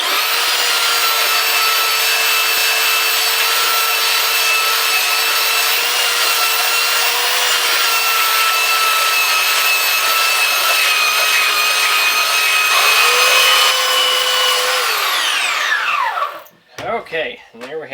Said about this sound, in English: So we have our trusty belt sander here.